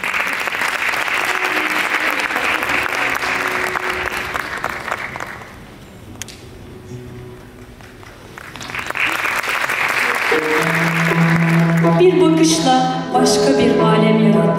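A concert audience applauds soloist Ümit Tok at a Turkish classical music (Türk Sanat Müziği) show, with loud sustained clapping that dips briefly midway, then resumes as instruments start playing underneath.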